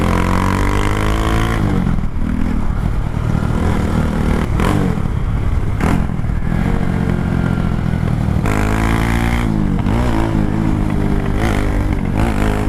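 A Honda Grom motorcycle fitted with a 17-tooth sprocket accelerates hard through the gears, its loud buzzing engine climbing in pitch several times with brief dips at each shift, heard up close with heavy wind noise.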